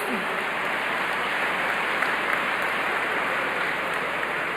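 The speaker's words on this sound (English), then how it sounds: "Give them a round of applause, please" A dinner audience at an awards event applauds, a dense, even wash of clapping that holds steady throughout with a faint voice near the start.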